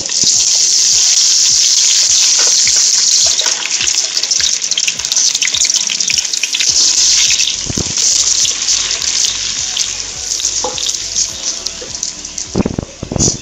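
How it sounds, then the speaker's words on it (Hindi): Finely chopped onions dropped into hot oil for a tinday keema dish, giving a steady loud hiss and sizzle throughout with scattered crackles, with some talk faint underneath. "अब इसमें हम प्याज डाल देंगे जो हमने बारीक काट लिए थे।"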